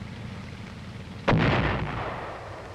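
A missile fired from an M551 armored reconnaissance airborne assault vehicle, one sudden loud blast followed by a long rushing roar that slowly fades, heard over quiet background noise.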